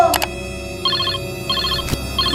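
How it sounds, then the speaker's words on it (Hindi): A mobile phone ringtone plays in short repeating electronic bursts, fairly clear and close, with a couple of brief knocks and no talking. "लगता है मेरा फोन बज रहा है"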